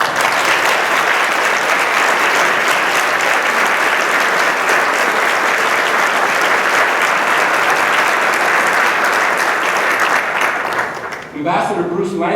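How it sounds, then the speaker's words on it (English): A room of guests at a Foreign Service anniversary dinner breaks into loud, sustained applause for an honored ambassador, a thick even roar of clapping that fades out at the very end as a voice returns. "So please join me in a round of applause for Ambassador and former Director General Joan Clark"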